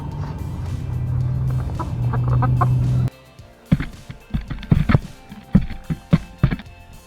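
Backyard chickens clucking and pecking in short, irregular bursts after a steady background hum cuts out, close and moderately loud, while eating black soldier fly larvae.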